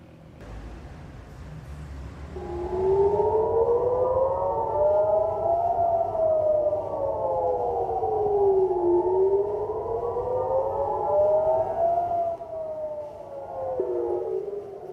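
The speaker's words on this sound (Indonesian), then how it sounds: "Warga di Tel Aviv, Israel terlihat menuju tempat perlindungan selama bunyi sirine terbaru di Tel Aviv" A civil defense air raid siren wails across Tel Aviv, its tone rising and falling in long, slow sweeps that carry over faint street noise with no voices.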